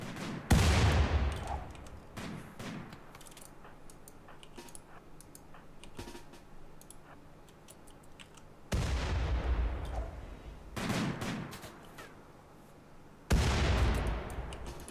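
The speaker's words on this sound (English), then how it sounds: "I really need you guys to start opening fire hard." Gunfire in the video game RimWorld: three loud bursts of booming shots spaced several seconds apart, with quieter crackling and faint clicks in between.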